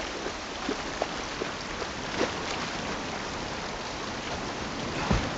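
Steady rain in the video game The Last of Us Part 1 hisses down, with a few scattered louder drops and taps against the constant wash of sound.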